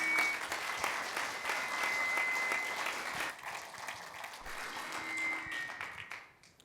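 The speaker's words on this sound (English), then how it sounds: "I guess everyone please give a round of applause." Applause from an audience at a presentation on email templates, a fairly soft, continuous patter of many clapping hands that tapers off at the end, with faint tones and thumps in the room.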